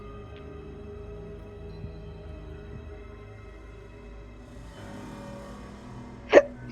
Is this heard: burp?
yes